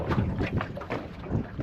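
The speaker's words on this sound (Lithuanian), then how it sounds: "dabar jau sukilo vėjas." Gusty wind rising over a lake during a pike-fishing trip in a small boat, heard as close, uneven bursts of buffeting rumble that swell and fade in quick succession.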